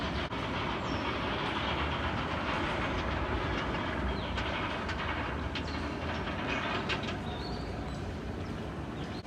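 A Nitro roller coaster train rolls along its track at Six Flags Great Adventure, a steady loud rumble with faint clacking and distant park ambience, no voices.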